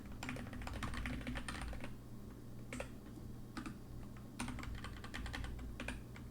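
Close computer keyboard typing while writing C++ code, in bursts of rapid key clicks separated by short pauses, with a low steady hum underneath.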